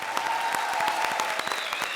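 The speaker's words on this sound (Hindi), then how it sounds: "So a big round of applause for the ABCD team." A studio audience on a comedy show claps in steady applause, dense and continuous, with a faint tone running underneath.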